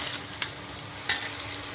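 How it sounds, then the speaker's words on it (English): Crushed ginger, garlic and chili frying with cumin seeds in hot oil, a steady close sizzle broken by two sharp stirring scrapes, no voices. "Next I am adding the crushed ginger, garlic and chili. I will fry them till the raw smell is gone."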